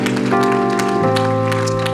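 Church congregation applauding during a service, a dense clatter of clapping hands layered under sustained organ or keyboard chords, loud and continuous.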